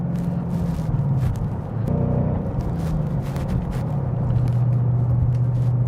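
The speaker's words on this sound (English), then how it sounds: "Even on acceleration, you can hear the aftermarket exhaust" Muffled interior exhaust rumble of a Ford Mustang GT V8 with an MBRP 3-inch aluminized Street Series cat-back exhaust, a loud continuous low drone that dips briefly then swells as it accelerates, steady to the end.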